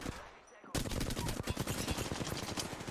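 Loud, continuous automatic gunfire in an Apex Legends ranked match, a dense stream of close shots kicking in abruptly after a brief quiet moment and running steadily to the end.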